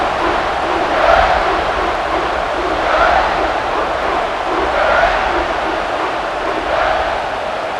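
A stadium crowd roars in the NCAA College Football 26 video game during an Old Dominion Monarchs versus Indiana Hoosiers game, a loud continuous wash of cheering with gentle swells every couple of seconds.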